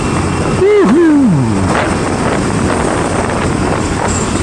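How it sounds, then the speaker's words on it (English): Steady, loud wind roaring past the microphone while riding a 2023 Ducati Diavel V4 on the highway at about 90 mph in sixth gear. A rider's brief voice rises over the constant rush early on. "Boy, that cool breeze"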